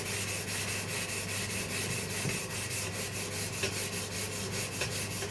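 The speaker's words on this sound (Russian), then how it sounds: "я протачиваю только вот нашу основную режущую кромку" A chisel's cutting-edge bevel is ground on a sharpening stone to remove metal, giving a steady, close, continuous rasping scrape with faint rhythmic strokes and no voices.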